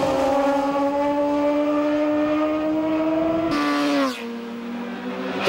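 Formula One class racing motorcycles at the 1987 Isle of Man TT scream past at high speed through Windy Corner, their engines' whine dropping sharply in pitch as they go by close, then fading away.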